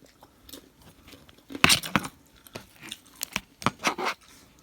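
Close, crunchy chewing and biting on plant-based mince with spinach during a mukbang, with irregular wet bites and louder crisp chomps in the middle.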